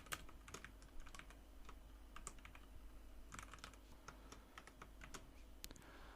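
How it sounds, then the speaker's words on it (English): JavaScript code being typed on a computer keyboard: a quiet, steady run of irregular key clicks with occasional sharper taps and no voices. "Let's type out the code that we tried out on our Chrome console"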